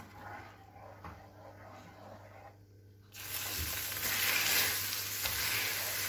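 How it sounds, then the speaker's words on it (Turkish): Milk poured onto caramelized sugar in a pan while making milk popcorn: after about three seconds of quiet, a sudden loud, steady sizzle bursts in and continues, with no talking. "Şimdi üzerine sütümüzü ekleyeceğiz."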